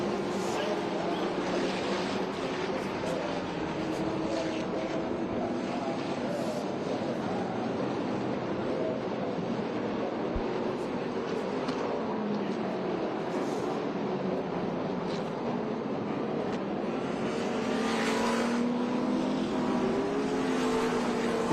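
Trans Am race cars lapping at Portland International Raceway during a doubleheader race, engines droning steadily throughout with shifting pitch as cars pass, blended with a commentator's voice over the track noise.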